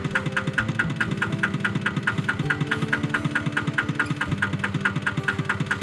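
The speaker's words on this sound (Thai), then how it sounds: "ใช้รถไถ" A tractor engine idles throughout on a rice farm, a low rumble with a regular rapid chugging pulse and faint higher rattles, constant and close.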